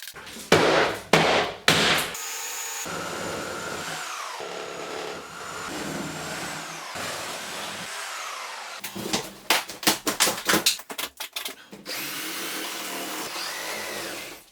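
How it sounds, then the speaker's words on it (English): A reciprocating saw cuts into the drywall of a kitchen soffit during a renovation, its motor droning steadily through the middle of the clip. Loud, choppy bursts of cutting and knocking come first and again near the end. "I think we can cut with the Sawzall safely in there."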